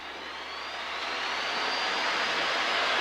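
A light aircraft's engine at full throttle on takeoff roll, a loud steady roar that builds over the first second and holds, with a rising whine layered on top.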